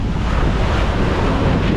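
Sea waves slap and splash against a small boat at sea, a loud, close rush of water churned together with heavy wind buffeting.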